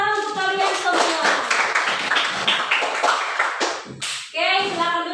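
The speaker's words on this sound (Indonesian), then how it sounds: "tepuk tangan untuk kalian semua" A classroom of children claps together in a quick burst of rhythmic applause, mixed with young voices calling out and a teacher speaking near the end.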